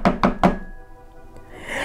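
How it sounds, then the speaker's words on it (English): Three quick, firm knocks on a wooden door ring out close by, evenly spaced, then fade into a low hum. "That evening, there came a third knock upon the door"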